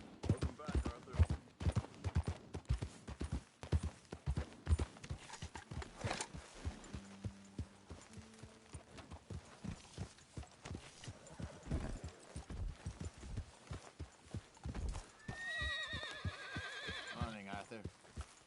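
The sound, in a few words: horse hooves and neighing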